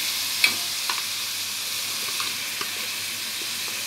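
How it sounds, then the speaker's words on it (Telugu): Capsicum, green chillies and onions fry in a pan, a constant close sizzle broken by a few light clicks of stirring, with no talking. "దీంట్లో క్యాప్సికమ్, పచ్చిమిర్చి, ఆనియన్స్ ఫ్రై చేస్తున్నాను."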